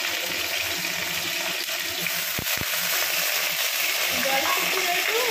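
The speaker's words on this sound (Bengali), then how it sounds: "এবার দিয়ে দিচ্ছে তেলের মধ্যে পেঁয়াজ" Onions fry in hot oil with black cumin, a steady close sizzle with light stirring, and a couple of sharp knocks partway through.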